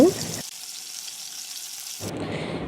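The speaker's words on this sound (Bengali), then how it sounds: "এভাবে নেড়ে চেড়ে আমি এগুলো ভেজে নিব" Red lentil fritters (masoor dal bora) frying in hot oil give a crackling sizzle. It breaks off into near silence for about a second and a half, then resumes.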